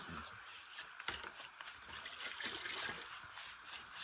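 Water from a tap trickles and splashes steadily during a dog's bath, with small irregular drips and patter throughout, close by and fairly quiet.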